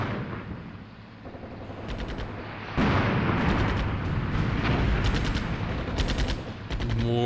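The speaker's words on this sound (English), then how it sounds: "More artillery coming in from the enemy." Enemy artillery lands in Armored Brigade 2, a Cold War tank battle, with a steady roar of shelling and gunfire and repeated sharp blasts, loud and continuous throughout.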